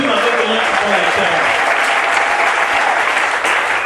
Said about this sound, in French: Acclamons tous pour la lecture